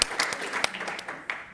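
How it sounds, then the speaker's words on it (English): A burst of scattered clapping from an audience, fairly faint and uneven, with individual claps popping out irregularly. "Let's give them a round of applause."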